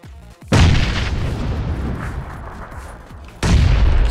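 Loud explosion in PUBG (Playerunknown's Battlegrounds), a sudden heavy boom with a long rumbling tail, followed by a second blast near the end.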